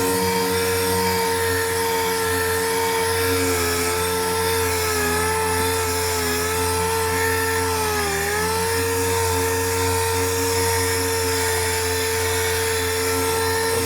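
A power sander wet sanding car paint, whining at a loud, steady high pitch close by, with a slight dip in speed midway as pressure changes, running continuously without talk.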